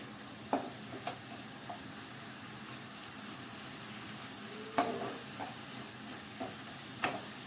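Spinach and green peas cook in a pan with a low, steady sizzle and a few sharp stirring clicks and scrapes scattered through, quiet and close.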